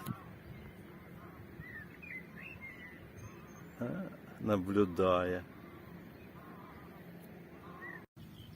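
A few loud wild goose honks burst out in a short cluster along a riverbank, with a person speaking briefly just before them and quiet outdoor ambience around.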